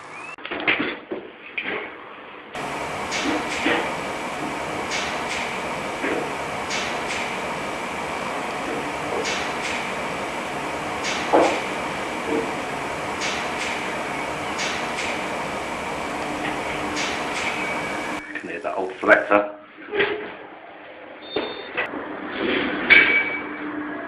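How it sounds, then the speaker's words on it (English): Electromagnets clacking in an Express Lift motor room as they step an early lift controller's carriage floor selector, a busy run of sharp mechanical clicks and knocks over steady machinery hum, no voices. "You can hear the electromagnets turning the carriage floor selector."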